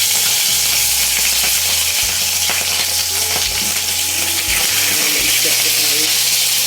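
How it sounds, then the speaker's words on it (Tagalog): Oil sizzles and crackles steadily as fish fries in a pan, with occasional scraping and clinking of a utensil. "Prito tayo ng isda."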